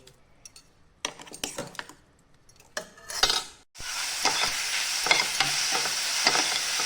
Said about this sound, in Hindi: हमारा आंवला इस तरह से भुनना शुरू हो गया है